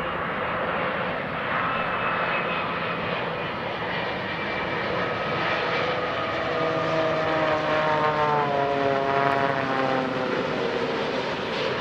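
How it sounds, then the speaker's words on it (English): An ANA Boeing 787 Dreamliner comes in to land with its ram air turbine deployed, giving a steady loud jet roar with rising whining tones that climb through the clip, no voices present. "This is an ANA 787 Dreamliner and we'll listen to its RAT."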